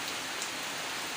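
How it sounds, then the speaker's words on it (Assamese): Heavy, continuous monsoon rain pours down steadily in a waterlogged area, a dense, even hiss of drops with no pauses, alone and without voices. "ইমান যে বৰষুণ দি আছে এইকেইটা দিন বা এৰা নামে লোৱা নাই বৰষুণ"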